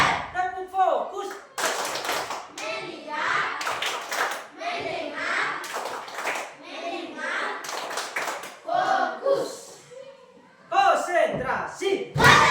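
Schoolchildren perform a rhythmic group clapping routine, several quick clusters of claps alternating with loud chanted voices in a classroom setting.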